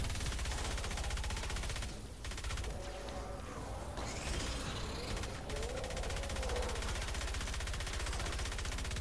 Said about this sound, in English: Still trying to determine whether or not the Swan is a top tier weapon or not